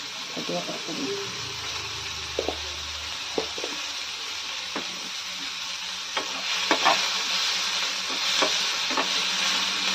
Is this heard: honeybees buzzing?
no